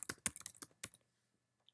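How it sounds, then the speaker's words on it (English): A quick burst of clattering keystrokes on a computer keyboard, close and quiet, stopping after about a second and leaving near silence. "my typing is not very accurate"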